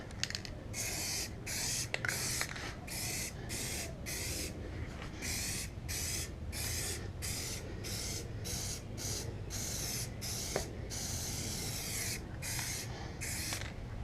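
Spray paint hisses in repeated bursts onto the underside of a 2016 Subaru WRX front bumper, each pass a steady close airy spray broken by brief pauses, with no talking.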